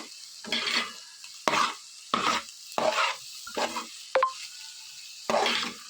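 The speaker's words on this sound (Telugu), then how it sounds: "ఇలా ఇవన్నీ కూడా బాగా మిక్స్ చేసుకుని ఇంకొంచెం సేపు మగ్గనివ్వాలి" Beans curry frying in a pan is stirred in a series of separate scraping strokes, roughly one every second, each with a soft sizzle, plus a brief metallic clink partway through, with no talking.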